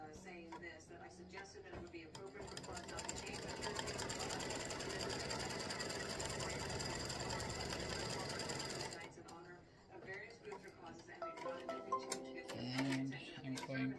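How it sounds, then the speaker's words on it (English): An embroidery machine runs steadily while stitching a placement line for a baseball appliqué design, its rapid needle chatter continuous for several seconds before stopping, followed by quieter handling sounds and a voice speaking. "we're going to stitch another placement line"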